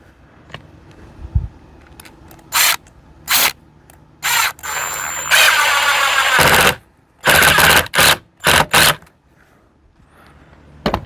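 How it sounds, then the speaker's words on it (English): A power drill driving a small screw into a DIY wooden 4x4 light post, several short loud whirring bursts separated by pauses, close up and with no talking. "let's drop another little screw in there to hold that"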